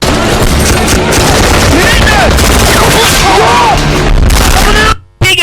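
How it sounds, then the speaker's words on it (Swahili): Gunfire in an action movie scene: loud, rapid, sustained bursts of shots rattle for about five seconds before cutting off abruptly. "Piga risasi kama zote."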